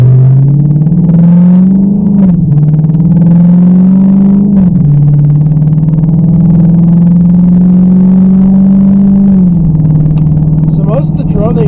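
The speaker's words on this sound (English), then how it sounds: "Going to now do the drone sound in my car, so we can compare it to my dad's car." Inside a Dodge Charger R/T fitted with a mid-muffler and resonator, a loud, steady low exhaust drone fills the cabin, dipping and rising slightly in pitch as revs shift.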